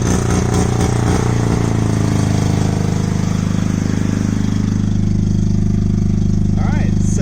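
A 1982 Mazda RX7 rotary engine idles loudly and steadily after start-up, a continuous close drone with a slight early unevenness.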